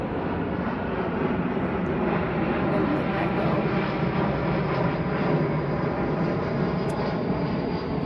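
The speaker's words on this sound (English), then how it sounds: "There's another airplane that's going by in the studio update." An airplane passes over a studio as a steady, broad roar that fills the whole stretch, with a person talking faintly beneath it.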